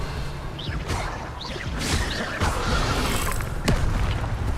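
Revelio reveal spell cast in the Hogwarts Legacy open-world magic game, a loud whooshing boom with shimmering swept tones and sharp magical cracks, dense and continuous over game ambience.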